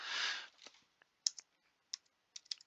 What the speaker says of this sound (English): So let me type it up.